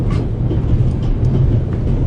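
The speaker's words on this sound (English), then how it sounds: "The noise on this train is driving me crazy." A train interior from the video game Raven Remastered, with a heavy, steady low rumble and faint clatter of the carriage running along the track, loud and continuous with no voices.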